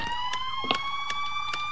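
A new fire chief vehicle siren in a video game wails with a steady, high sweeping tone, fairly quiet and uninterrupted, with faint clicks underneath.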